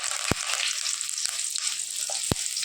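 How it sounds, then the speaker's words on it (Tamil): Vavval fish (pomfret) frying in hot oil after being turned on both sides, a dense, steady, close sizzle broken by three sharp clanks from a utensil against the pan. "இப்போ நல்லா ரெண்டு பக்கமே திருப்பி மீனை ஃப்ரை பண்ணியாச்சு"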